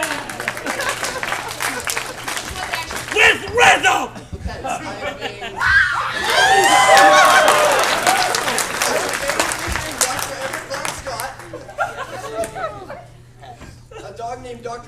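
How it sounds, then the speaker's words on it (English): A convention audience at a furry magic show claps in rhythm, loud and sustained for several seconds and mixed with laughter and crowd noise, with a voice speaking before and after. "Everyone clap your hands and his names will be changed. With rhythm!"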